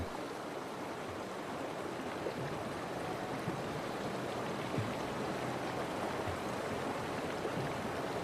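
Cold, fast-flowing river water where cattle calves are crossing on the way to summer pastures, heard as a steady, dense rushing and burbling that holds evenly throughout with no voices.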